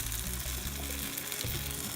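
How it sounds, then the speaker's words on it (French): Tomatoes roast in a pan with olive oil, a sprig of thyme and a little water, giving a steady, soft sizzle and bubbling hiss that continues without a break and without voices. "on va laisser les tomates rôtir à la poêle"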